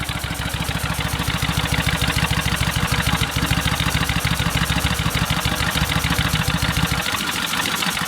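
Kawasaki Vulcan 1500 motorcycle with gravity-fed carburetor idling steadily after a second start, a loud rapid even thumping pulse that drops off lower near the end.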